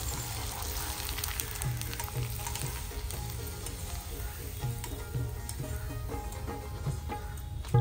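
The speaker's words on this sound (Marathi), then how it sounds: "आता आपण त्याच तेलामध्ये पापड तळून घेऊया." Papad frying in hot oil left over from puris for a Marathi festival thali, a loud, steady crackling sizzle close by with small irregular pops throughout, no voices.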